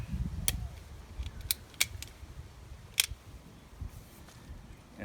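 Sunflower stem snipped with a cutting tool in a garden, giving several short, sharp clicks spaced irregularly over a low outdoor rumble, fairly close and moderately loud.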